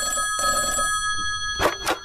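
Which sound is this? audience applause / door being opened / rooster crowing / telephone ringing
telephone ringing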